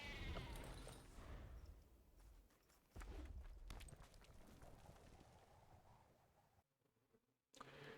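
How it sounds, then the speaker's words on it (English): Sheep bleat amid busy game sound effects from a Thunder Junction draft card video game, with clattering, hoof-like steps and layered effects filling the clip at a steady level before a short drop near the end. "The sheep!"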